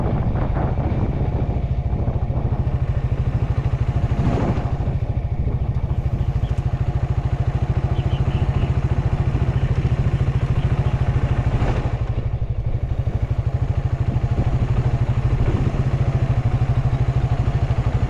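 A motorcycle engine runs with a steady, low, rumbling drone that holds at an even level throughout, with faint clatter in the background and no talking.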